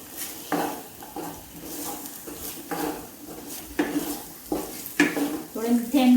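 Jaggery cooking in a pan over roasted ingredients for a home cough remedy, with repeated scraping strokes of a spoon against the pan over a soft sizzle, close and rhythmic.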